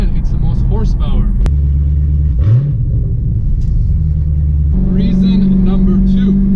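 A Dodge Challenger Scat Pack's 6.4-liter, 485-horsepower V8 rumbles loud and close, with a sharp rev that swells and drops midway before settling back into a deep idle, while a voice talks over it at times.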